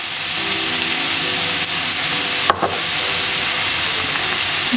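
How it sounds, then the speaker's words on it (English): A tablespoon of mustard seeds sizzles in a hot pan, giving a steady loud hiss of frying with a couple of faint clinks and pops, no talking. "I'm gonna add in the mustard seeds now, one tablespoon."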